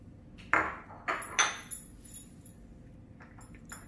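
A spoon clinks against a glass while honey is stirred into a weight-loss drink, giving three sharp metallic pings close up, then a few fainter taps with no talk.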